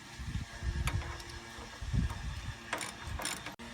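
Ratchet wrench tightening an upper control arm bolt on a 2008 Hummer H3 with an 18 mm socket, giving several bursts of rapid clicking close up over a low mechanical hum, with no talking.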